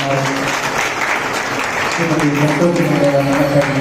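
An audience applauds at the inauguration ceremony of a Kannada literary council zone, steady clapping from a crowd that holds at an even level for several seconds, with a voice faintly audible underneath.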